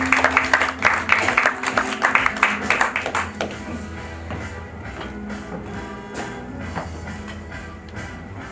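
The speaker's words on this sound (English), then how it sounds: "You can clap. You have to clap." Comedy show audience breaking into scattered applause for a few seconds, then fading under continuing background chatter and a speaking voice.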